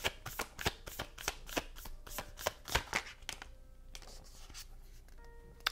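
A deck of tarot cards is shuffled close up in a quick run of crisp riffling flutters, about a dozen rhythmic bursts, before slowing to a few soft taps and slides.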